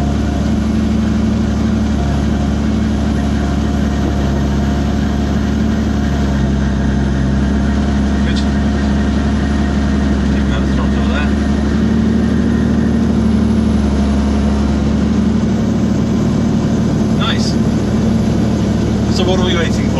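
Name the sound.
Robinson R44 helicopter engine running, rotor blades turning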